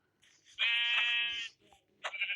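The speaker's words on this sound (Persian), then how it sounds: "عجب گوسفند" Sheep in a two-player survival video game bleat loudly, one long wavering call followed by a shorter bleat after a brief pause, standing alone with no talk over them.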